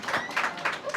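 A burst of audience applause at a Women's Day program, scattered hand claps rising and falling over about a second, moderately loud.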